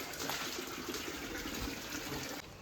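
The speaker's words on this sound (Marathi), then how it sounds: "उमलाट आलेला आहे जोरात" Floodwater rushes loudly over a road during torrential rain in the Konkan, a steady continuous broadband gush filling the whole clip with no pauses, dropping slightly at the very end.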